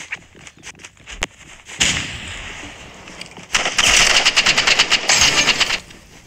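Rapid bursts of gunfire in the Roblox game Rivals, loud and close, with clustered volleys of shots in the second half and scattered single shots earlier.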